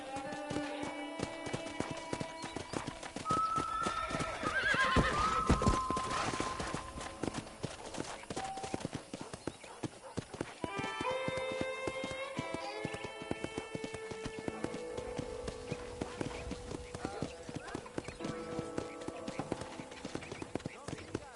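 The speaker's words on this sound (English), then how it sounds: "let's see if you can still ride a horse." Horse hooves clip-clop steadily at a trot in a video game, with a brief whinny early on, while people talk over the hoofbeats and soft music plays.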